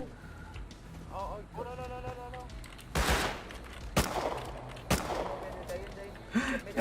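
Gunfire in the video game Rust during a raid on a supermarket: a few loud, sharp shots land about a second apart, with excited voices shouting over a busy game background.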